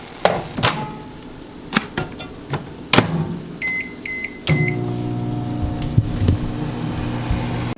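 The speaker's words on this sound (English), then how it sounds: "Gonna just pop this rice in the microwave" Kitchen clatter and a few sharp clicks, then beeps from a microwave keypad before the oven starts its steady low hum while heating rice, which continues to the end.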